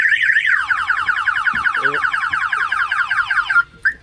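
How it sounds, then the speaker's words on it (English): A loud electronic anti-theft alarm on a 2018 Polaris Slingshot wails in a rapid, continuous warbling pattern for several seconds, then cuts off and gives a brief final chirp. "If you get in, the alarm will fire off."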